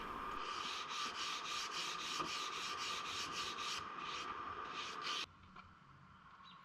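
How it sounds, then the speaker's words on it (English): Rhythmic hand scuffing of a shellac finish between top coats on a refinished wood piece, about a dozen quick even rubbing strokes, close and clear, then stopping into quiet near the end. "Now that the shellac is scuffed"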